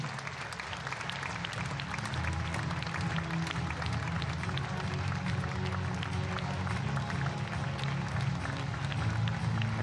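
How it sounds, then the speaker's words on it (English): A large crowd at the recurve archery World Cup finals in Berlin applauds steadily for close to ten seconds, a dense, continuous wash of clapping at moderate loudness with no clear voices on top. "Plenty of applause from the crowd."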